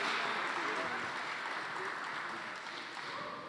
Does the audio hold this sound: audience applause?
yes